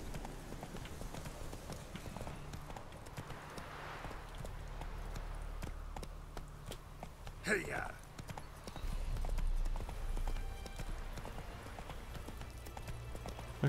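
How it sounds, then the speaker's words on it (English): Horse hooves clip-clopping at a walking pace in The Witcher 3, a steady quiet rhythm that runs under a voice talking over the game. "Still annoying me that I can't fucking gallop with this horse."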